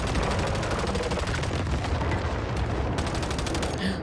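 Many players firing together in the survival video game Once Human, a loud, sustained barrage of overlapping gunshots with rapid automatic bursts and no pauses.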